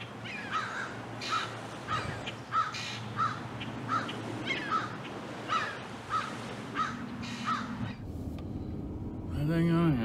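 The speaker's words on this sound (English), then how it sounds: "Seagulls are going absolutely crazy around here," Birds call outdoors where seagulls gather, with a steady run of regular, cawing cries over a constant low rumble, ending in a rising whistle-like tone.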